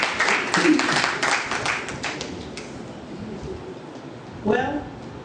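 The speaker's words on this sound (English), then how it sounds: "Another round of applause to him." Audience applause at an environmental issues paper presentation, a burst of clapping from a room of people that fades out as a voice starts talking.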